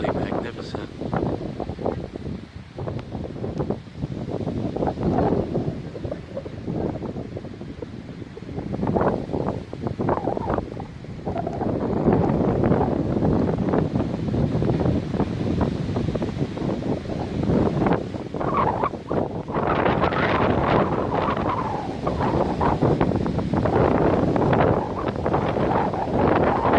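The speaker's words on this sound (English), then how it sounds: "Oh, that wind is tremendous." Strong gusting wind on the summit of Mount Everett in Massachusetts roars and buffets steadily against the microphone, loud throughout, with a person speaking at times over the rush.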